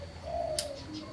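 A spotted dove (tekukur) gives a single soft coo with a brief higher note, fairly faint over a steady background hum.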